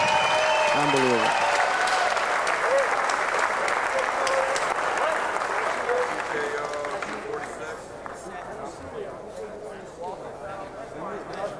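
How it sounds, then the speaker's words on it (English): Loud arena crowd applause and cheering for two fighters at an MMA event, dense at first and slowly thinning, with a voice talking over it. "Ladies and gentlemen, how about a nice round of applause for both fighters, please?"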